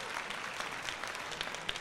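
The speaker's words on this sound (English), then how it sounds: "He deserves a round of applause." A ballpark crowd at a Blue Jays home game against the Astros claps steadily as one soft, unbroken roar of hands, faint and distant with a few sharper claps standing out.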